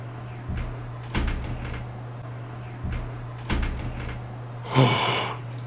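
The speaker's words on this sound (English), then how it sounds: "The door jiggled again." A hotel room door at the Stanley Hotel jiggles and rattles in its frame in a few short bursts, a couple of soft knocks followed by a louder rattle near the end, heard at close range against a steady low hum.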